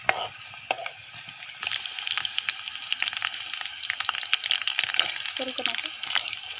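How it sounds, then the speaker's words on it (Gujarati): Chopped onion fries in hot oil in a pan at an outdoor farm kitchen, giving a steady close sizzle broken by scattered clinks and scrapes of stirring. "થોડીક ડુંગળી ડુંગળી સુધારેલી છે એ નાખી દીધી છે. થોડીક વાર ચડવા દઈશું ડુંગળીને."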